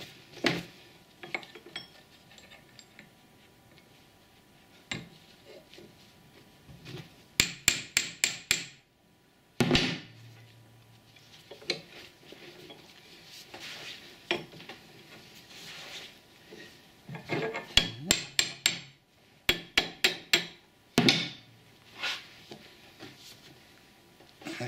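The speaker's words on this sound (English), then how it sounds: "just put it in the vise and continue bending it round." Metal Viking brooch bent round in a vise, producing clustered bursts of sharp metallic clanks and ratcheting clicks separated by quieter pauses, close and loud.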